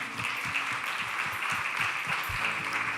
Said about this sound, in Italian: Possiamo fare un grande applauso al Signore in questo momento.